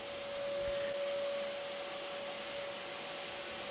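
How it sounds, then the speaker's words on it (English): A vacuum cleaner sucking up yellow jackets and nest envelope during a removal from a floor, a steady loud whirring drone with a whistling tone and faint rattles, no talking. "I vacuum off as much of the envelope and expose some of the comb"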